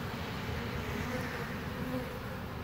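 Honey bees swarm around a nuc hive frame during an outdoor rainy-day inspection, making a continuous close buzzing hum that holds steady for the whole clip.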